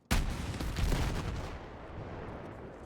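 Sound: weapon shot in video game Battlefield 6

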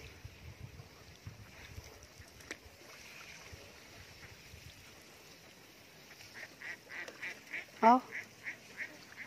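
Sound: ducks (itik) quacking and honking near water

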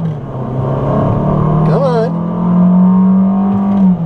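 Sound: 2014 FIAT 500L accelerating with dual clutch transmission

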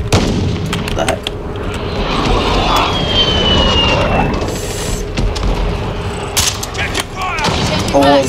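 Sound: gunfire in Call of Duty video game

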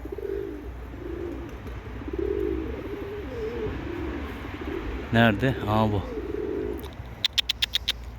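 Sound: tumbler pigeons cooing

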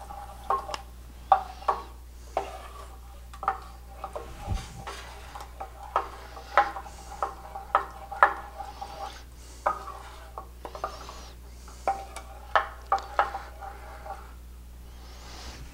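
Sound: stirring tomato sauce with spices in a pan

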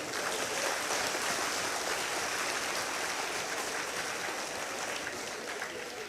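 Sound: audience clapping together

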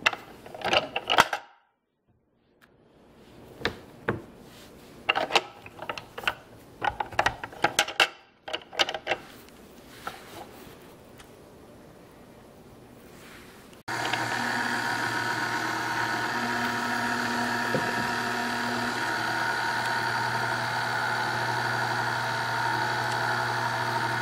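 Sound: KitchenAid mixer with cheese grater attachment grating cheese

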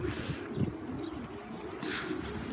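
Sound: racing pigeons cooing

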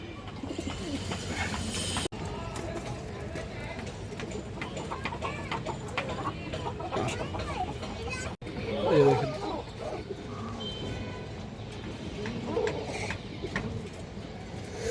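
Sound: male silver pigeon cooing

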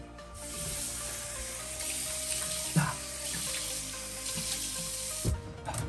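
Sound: cold water running from a tap

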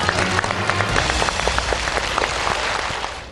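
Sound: applause from studio audience

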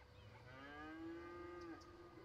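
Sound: cows mooing in the video game Cities: Skylines

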